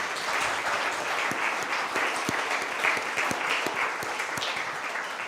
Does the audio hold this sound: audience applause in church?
yes